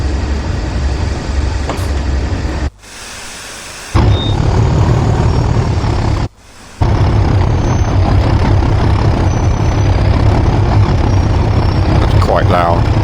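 A loud, steady rumble of a locomotive engine in Train Sim World 3 with a hissing tone of air brakes charging, cut by two brief dropouts, and a voice talking over it.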